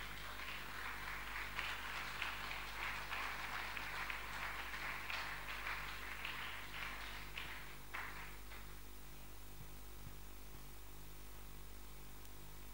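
A church congregation applauding loudly after a scripture reading, a dense sustained clatter of clapping that fills the room and then fades out midway, leaving a low steady hum.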